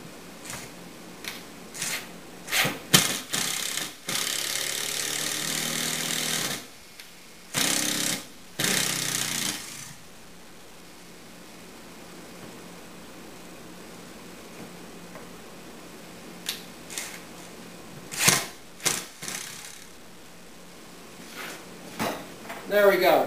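Screws driven into a wooden sculpture stand with a power driver after waxing: several loud whirring bursts of different lengths with gaps between, close up, and a voice talking in the quieter stretches.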